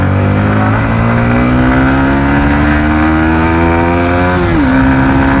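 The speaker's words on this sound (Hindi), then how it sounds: "भाई आजकल ना बाइक की साउंड भी काफ़ी अच्छी हो चुकी है यार।" Yamaha MT-15 motorcycle with its stock exhaust rumbles close and loud in a steady drone near a college in Jammu, its pitch climbing gradually and then dipping briefly as the revs change.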